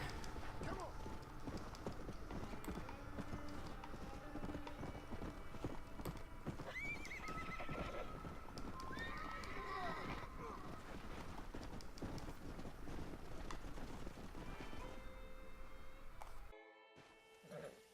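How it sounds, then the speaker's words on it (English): Steady clip-clop of horse hooves in the video game Red Dead Redemption, with occasional whinnies over a constant outdoor ambience, fairly loud throughout, then cutting off abruptly near the end. "We got some fine horses."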